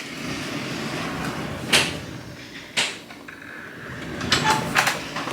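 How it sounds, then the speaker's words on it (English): A sliding barn door in a Disney resort family suite rolls along its track with a couple of sharp knocks, followed by further rattling and bumping close by, with no voices. "Now we have the barn door,"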